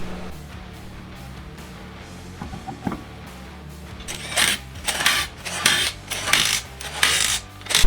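A car alignment adjustment is tightened down with a wrench, starting with a few quiet metallic clicks and then turning into a series of loud, close ratcheting bursts.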